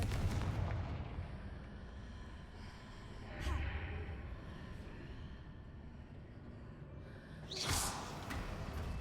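Two booming blasts of the Confringo fire spell going off in the Hogwarts Legacy video game, one near the middle and a louder, sharper one near the end, over a continuous low rumbling game background.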